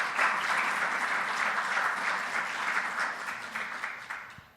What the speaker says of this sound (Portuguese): uma salva de palmas para toda deste fantástico Cinema São Jorge